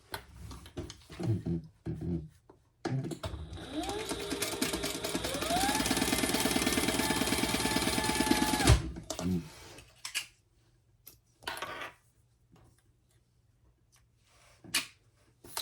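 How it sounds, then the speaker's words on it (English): A sewing machine stitching down the sides of a slip pocket for a hobo-style shoulder bag: sparse handling clicks, then a loud continuous motor whine that rises in pitch for about five seconds before stopping, followed by scattered quiet clicks. "we're gonna put that right side together and we're gonna stitch down the sides"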